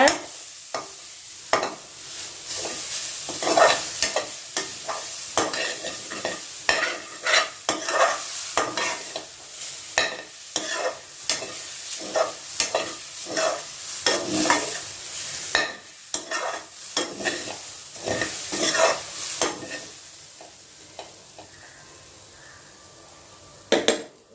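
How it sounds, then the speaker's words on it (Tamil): Grated coconut for laddoos roasts in a pan under quick, repeated stirring, with a spoon scraping and knocking against the metal in an irregular rhythm over a soft sizzle. "தேங்காயை கொட்டிக்கோங்க துருணது பொன்னிறமாக வருங்க"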